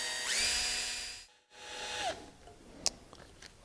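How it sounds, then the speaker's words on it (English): Short whining bursts of a power drill boring a 1/8-inch hole into an aluminum ignition lock cylinder of a Volkswagen Golf, a brief pause between runs, then faint scraping and a sharp tick, quiet overall. "And then we're going to go where we made our mark, and we're gently going to drill."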